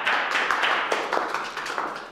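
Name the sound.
audience applause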